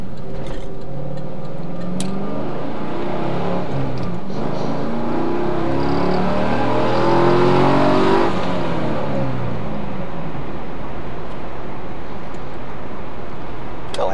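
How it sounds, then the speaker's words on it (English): Cars driving past close by on a road, engines building and fading over several seconds and swelling loudest near the middle, with no talk. "We got some cars coming, but we can get out of their way."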